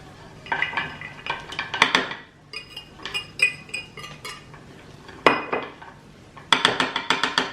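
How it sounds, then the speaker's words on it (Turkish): Fruit mixed with two spoonfuls of starch in a bowl, a spoon scraping and clinking against the bowl in irregular bursts of stirring with short pauses between, close and clear. "Karıştırıyoruz."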